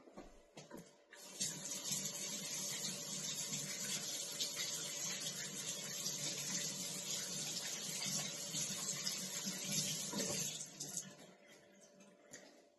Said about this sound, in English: we are going to wash our hands